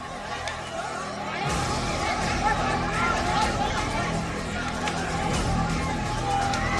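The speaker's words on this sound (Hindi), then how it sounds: "एक उन्मादी भीड़ है" A frenzied mob surrounding two sadhus in Palghar creates a loud, continuous hubbub of many overlapping shouting voices that jumps in after a quieter opening and stays chaotic throughout.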